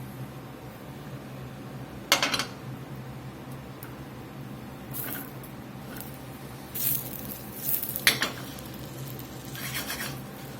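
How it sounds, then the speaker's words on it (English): Vegetables sauté in butter in a skillet, giving a low, steady sizzle broken by a few sharp clanks and scrapes of a utensil against the pan. "We're just going to saute these a few minutes till they get a little bit golden."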